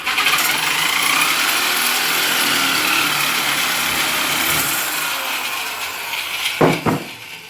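Power tool cutting through a CycleKart frame piece on a workbench, a loud continuous grinding whine that runs for most of the clip and ends with a few short knocks.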